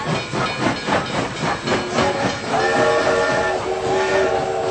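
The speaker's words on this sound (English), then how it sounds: "L'arrivée d'un train en gare de la Criat, otherwise known as train pulling into a station" A steam locomotive pulls into a station at La Ciotat on the French coast, with rhythmic chuffing and hissing steam, then a sustained whistle-like tone from about midway, loud and close with no talk.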